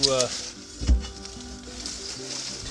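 Fly ash being stirred and worked toward the center inside the firebox of a Central Boiler Classic Edge 550 outdoor wood furnace, a close scraping, gritty rustle with a heavier thump near the start and faint voice in the background.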